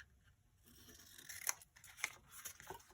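Scissors snip through folded paper to make a journal tab, a few quiet crisp cuts close by against a soft background hiss.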